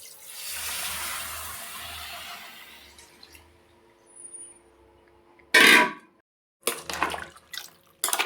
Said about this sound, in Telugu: ఇప్పుడు ఈ ఉడికించి పెట్టుకున్నప్పుడు వచ్చిన వాటర్ని ఇందులో వేసుకుందాం తలకాయ కూరలో